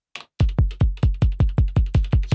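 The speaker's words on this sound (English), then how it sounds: "because this is like super soft kick drum" Soft electronic kick drum sample called Silky, played alone in a steady loop: about eleven deep, round thumps with quick decays at an even rhythm after a brief soft click.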